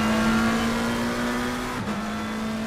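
Race car engine at Donington in Assetto Corsa Competizione, heard from the in-car camera: a loud, steady high drone holding one pitch, then dropping slightly as the gear shifts.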